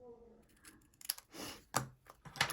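Scissors make a custom cut through a scrap of Mossy Meadow pattern paper, giving several short, close, quiet snips and rustles in an uneven rhythm.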